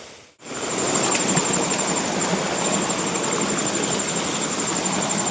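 Flowing stream water in the Konkan, a loud steady rushing wash that begins after a brief pause and continues evenly throughout.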